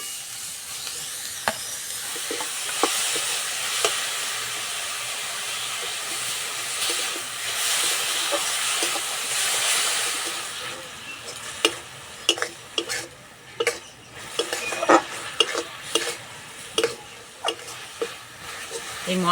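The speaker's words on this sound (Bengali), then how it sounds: "এবার খেজুরে গুড় দিয়ে দেবো।" Carrot filling with date palm jaggery and crushed spices stirred in a pan for manda pitha, a steady frying hiss under sharp intermittent scrapes and clinks of the spoon that grow more frequent toward the end.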